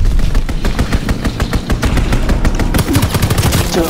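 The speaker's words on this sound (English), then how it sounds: "Strafing the target." Rapid machine-gun bursts from a strafing fighter plane in the World War II shooter Call of Duty WW2, loud and continuous over a rumbling low background, with rattling repeated shots throughout.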